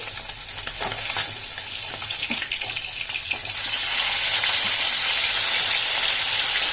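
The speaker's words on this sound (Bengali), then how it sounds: "মাছগুলো একটু ভাজা হতে থাক" Fish frying in a pan hiss and crackle in a busy sizzle that swells louder and more constant partway through, close by with no talk.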